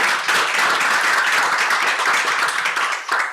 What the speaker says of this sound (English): another round of applause for that first panel, everybody